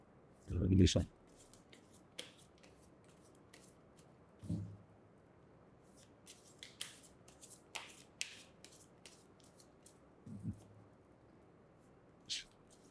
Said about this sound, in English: I will shuffle these cards for you, both the piles